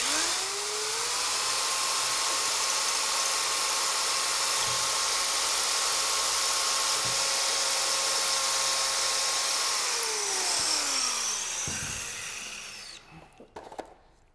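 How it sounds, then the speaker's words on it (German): A steady, continuous drilling whine with a grinding edge runs for several seconds as a drill bores into hollow brick without hammer action, then winds down and stops, followed by a few small knocks. "Wir empfehlen, im Lochstein ohne Schlag zu bohren"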